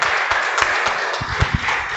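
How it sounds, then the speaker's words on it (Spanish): A church congregation at a Spanish-language sermon claps together in dense, steady applause that fills the whole moment, loud and close, with no speech over it. "Dale un aplauso a Dios."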